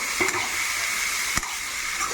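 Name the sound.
ridge gourd and tomato frying in oil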